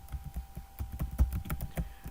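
Keys clatter on a computer keyboard in a quick, uneven run of close taps, with slightly louder strokes near the middle, no talking over it.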